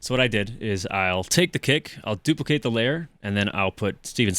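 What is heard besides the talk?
No distinct noise like a dog, phone or traffic.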